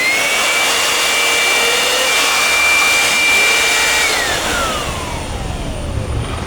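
An electric blower blasts dust out of the fan of a decade-old desktop PC, a loud steady rushing whine that holds for several seconds and then eases slightly in pitch near the end.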